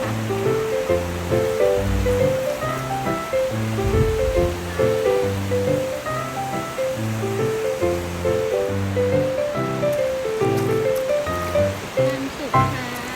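Sea waves wash onto a sandy beach at Mae Ramphueng, Rayong, in a steady broadband rush. A muddled background of music or voices runs underneath throughout.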